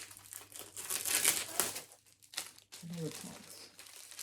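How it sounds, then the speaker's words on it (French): A plastic packet from an Advent calendar crinkles loudly as it is pulled open, a dense rustle in two bursts separated by a brief pause, with a person talking over and after it. "je sais même plus ouvrir le sachet"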